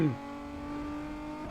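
A Type R car's engine in the racing game Need for Speed Underground 2 drops quickly from a high rev, then holds a steady, smooth engine drone for the rest of the brief moment.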